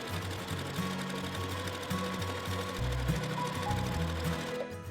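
A sewing machine stitches a quarter-inch seam along a quilt block, its steady mechanical whirr running in short bursts with slight pauses. The sound is close and moderately quiet.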